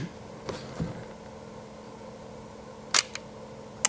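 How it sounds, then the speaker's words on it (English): Double-stroke shutter and film advance of a 1954 Leica M3 camera: a few soft mechanical clicks early, then a sharp, close shutter snap followed by a lighter click and a final tick, over quiet room hiss. "The Leica M3 double stroke."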